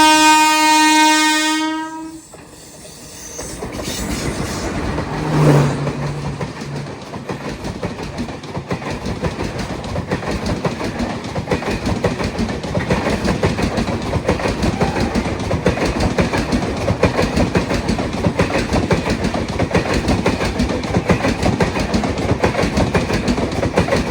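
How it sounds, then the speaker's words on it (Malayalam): The Murudeshwar SMVT Bangalore Express passes at a railway crossing on the Konkan line. A loud horn blast sounds first, then a long steady roar with clattering wheels as the coaches rush past close by. "മറ്റേ SMVT ബാംഗ്ലൂർ വന്ന മുരുഡേശ്വർ SMVT ബാംഗ്ലൂർ എക്സ്പ്രസ് ഇപ്പോൾ വരും, ക്രോസിംഗ് ഉണ്ട്."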